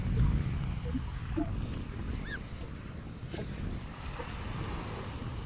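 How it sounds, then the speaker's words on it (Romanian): Sea waves roll onto Orange Beach in a steady, loud surf wash with wind buffeting the microphone and the occasional faint bird cry, and no voices. "Plaja asta e ideală pentru cei care iubesc valurile"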